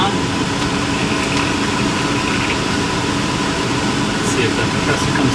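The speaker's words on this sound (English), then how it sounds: "Hey, fans come on." Dometic RV air conditioner fan running, a steady broadband whir and hum with a low rumbling undertone, continuous and fairly loud throughout.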